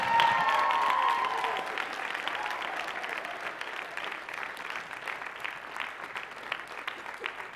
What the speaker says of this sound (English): Give everybody one last round of applause.